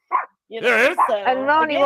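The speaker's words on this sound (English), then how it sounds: "Listen. You hear it barking in the background." A small dog barks and yaps in the background, a short yip followed by drawn-out whining barks, mixed in with people talking over it.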